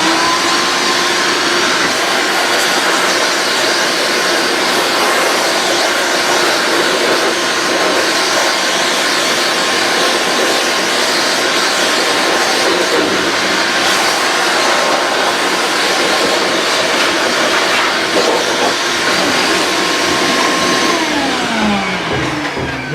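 Compressed air blasts steadily across a freshly sanded, carved vertical-grain board, a loud continuous hiss running unbroken for over twenty seconds with small shifts in intensity near the end.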